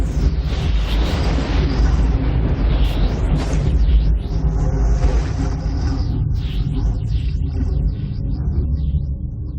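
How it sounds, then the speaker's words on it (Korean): Thunder rolls out of the storm clouds of Jupiter's Great Red Spot as a loud, steady, deep rumble and roar that fills the whole stretch, with no talking. "휘몰아치는 이 구름은 뇌우를 일으킵니다."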